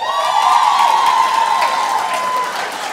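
A crowd at an awards gala cheers loudly and continuously, with high whoops and shouts held over a dense roar that fades slightly near the end.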